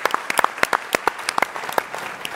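Audience applause for startup pitch presenters at a tech competition: a short burst of sharp, uneven individual claps, moderately loud and close, with no talking over it.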